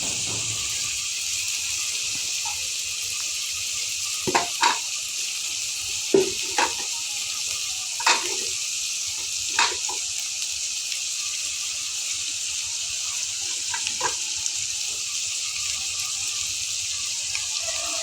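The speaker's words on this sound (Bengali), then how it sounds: "এর ভিতরে অ্যাড করে দিচ্ছি হলুদ গুঁড়ো, মরিচ গুঁড়ো ও একটু মশলা," Turmeric, chili powder and spice mix frying in a pan for a Bengali dish of dried shrimp, potato and Malabar spinach, a steady loud hiss with a few sharp scrapes and clicks scattered through it, with no talk.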